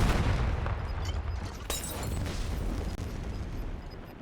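Rapid gunfire and blasts from Call of Duty: Warzone roar in a dense, continuous barrage, loud and crackling, with a sharper crack standing out midway.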